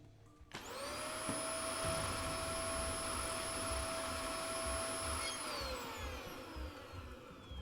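A vacuum cleaner in the video game Kill It With Fire switches on abruptly and holds a loud, steady whining roar with a high tonal whistle, which slowly drops in pitch near the end as it winds down.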